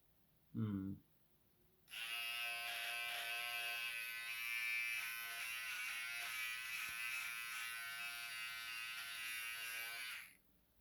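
An electric trimmer buzzes steadily and loudly for about eight seconds while trimming facial hair, after a brief earlier sound, with no talk over it.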